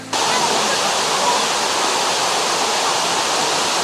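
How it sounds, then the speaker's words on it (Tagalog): A tall waterfall seen on a camping trip pours with a dense, loud, constant roar that starts abruptly and holds steady to the end, with no other sounds standing out. "Nandiyan na yung falls."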